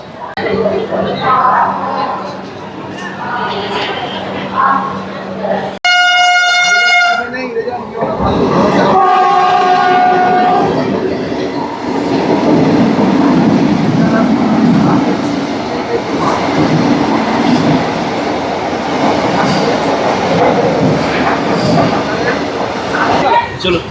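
A train pulls out of Bardhaman station's platform 2, with a loud horn blast early on, then steady rumbling and rolling noise as it gathers speed; voices and station noise sit underneath.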